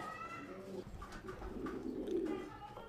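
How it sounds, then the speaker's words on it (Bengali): Red magpie fancy pigeons coo at a farm loft, several soft low rolling coos overlapping at close range, with faint background noise between calls. "এখানে তো আমরা ম্যাকপাই কবুতর দেখতে পাচ্ছি।"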